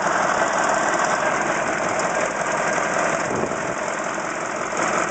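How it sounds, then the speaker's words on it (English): Caterpillar 613C scraper diesel engine idles while misfiring on one cylinder, a steady rough rumble with an uneven knocking beat, close and continuous, with no talking. "It's only running on 7 cylinders at most. It's missing completely on one."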